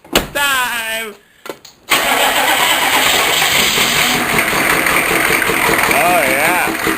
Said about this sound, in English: Crank her up! It's time!